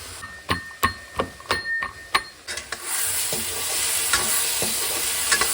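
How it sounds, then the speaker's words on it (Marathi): Grated carrots frying in ghee for a sweet dish, first a series of sharp spoon knocks and scrapes against the pan, then a steady loud sizzle as stirring continues, close up with no talk. "तुपामध्ये आता मी चांगलं याला फ्राय करून घेते"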